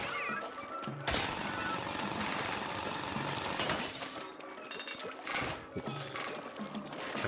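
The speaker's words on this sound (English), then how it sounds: "Time to drill." Drilling in the video game Splatoon Raiders, a loud, harsh grinding and crunching roar that runs almost continuously, broken by a few short dips and sharp restarts.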